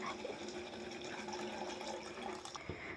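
Hot water is poured from a pan into a pot of village-style chicken curry, a short, close splashing gurgle of liquid that stays quiet and ends with a small clatter.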